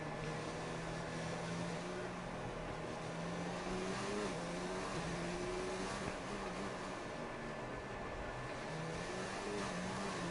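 A 1990s-style McLaren Formula 2 race car in a racing game laps the Monaco street circuit, its engine droning steadily and shifting pitch up and down through the gears, loud and continuous with no talk.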